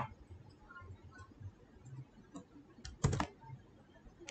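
Keys on a computer keyboard are typed, faint scattered taps with a short louder burst of keystrokes near the end.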